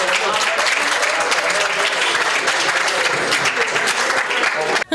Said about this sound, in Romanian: Aplaudați liceu teologic